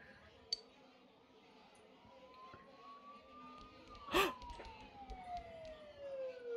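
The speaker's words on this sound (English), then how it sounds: "Sirens sound really close" A siren in the Persona 4 Golden video game, a long wavering wail that rises and falls, with a sharp tonal burst midway and scattered soft clicks, faint and distant.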